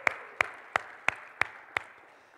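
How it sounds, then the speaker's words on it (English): A church congregation claps in a steady rhythm during worship, six sharp, evenly spaced claps in unison, crisp and fairly close, with a quiet room behind them. "Clap for you all."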